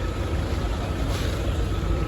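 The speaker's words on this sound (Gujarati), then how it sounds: "આ છે ટ્રેક્ટર." A tractor engine runs steadily nearby on a road entering Surat, giving a loud, continuous, broadband rumble without any breaks or voices.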